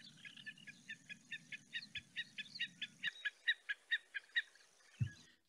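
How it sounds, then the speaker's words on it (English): A recorded snipe gives a run of about twenty sharp, evenly spaced chipping calls, clear and fairly close, with a low hum beneath the first half. "So the snipe will skulk about in the bog and make that call as they're skulking about."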